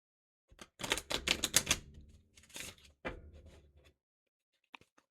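Tarot cards being shuffled by hand: a dense run of quick papery riffling bursts, then a shorter second flurry, ending with a couple of soft isolated taps, close up and no voices.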